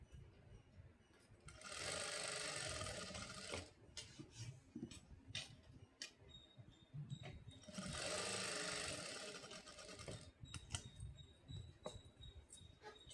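Sewing machine stitching a blouse in two clear bursts of rapid mechanical whirring, each lasting about two seconds, separated by quieter clicks and handling sounds of fabric being adjusted.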